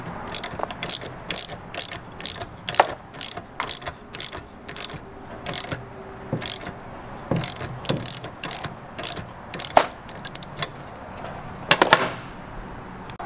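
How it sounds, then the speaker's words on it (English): A ratchet clicks in quick bursts as a hose clamp is tightened onto a mini bike carburetor, close and crisp repeated ratcheting over about thirteen seconds. "So the carburetor is installed, the hose clamp is tightened."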